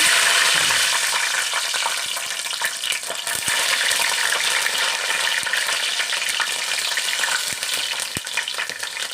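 Green chillies fry in about four spoons of hot oil for Telangana bendakaya charu, with a loud, steady sizzle up close and an occasional stir or clink of a spoon.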